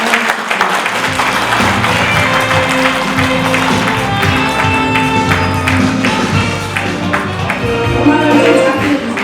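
An audience applauds steadily at a leadership ceremony to welcome the newly introduced fifth president of an alumni association, a dense, sustained wash of clapping with music playing underneath throughout.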